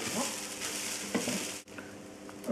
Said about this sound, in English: to this I'm going to add 2 tablespoons of oil, and then I'll be frying the rice for a couple of minutes.